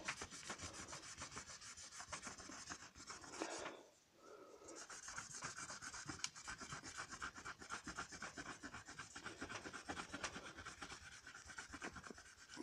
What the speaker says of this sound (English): if you just get a damp tennis ball and just keep rubbing